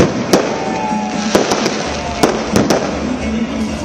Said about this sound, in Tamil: நள்ளிரவு 12 மணிக்கு வான வேடிக்கைகளுடன் மக்கள் புத்தாண்டை வரவேற்றனர்